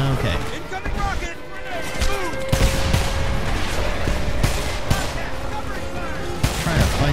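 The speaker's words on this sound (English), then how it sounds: "This gun sounds kind of bizarre." A gun firing in the video game Homefront during a Golden Gate battle, with sharp repeated shots in irregular bursts, other combat noise, and voices talking over the fighting.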